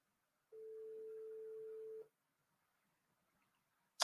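A single steady ring tone on an outgoing phone call, one long unbroken tone lasting about a second and a half, then quiet, ending with a short sharp click.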